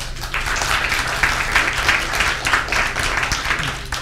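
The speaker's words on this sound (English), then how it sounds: "Let's give them another round of applause." Applause from a conference audience after a panel of economists is thanked, a steady, moderate clapping wash lasting several seconds with faint low hum beneath.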